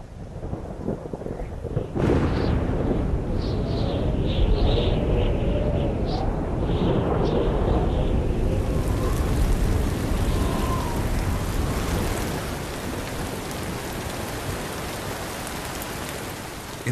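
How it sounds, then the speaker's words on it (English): A heavy dry-season thunderstorm in lion country: a rolling crack of thunder breaks in early, then loud, steady rain pours down with continuing rumbles, no voices. "In the dry season, storms can roll in quickly, but they don't last long."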